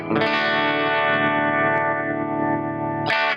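Electric guitar played through a PedalPalFx Gold Overdrive PAL 800 v3 overdrive pedal into an amp, giving a sustained distorted chord that rings for about three seconds, then a sharp fresh strum at the end.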